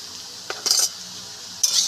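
Potatoes frying in a pan for Bengali spiced fried potatoes, with a few brief scraping stirs of a spatula against the pan over a faint steady background; no speech.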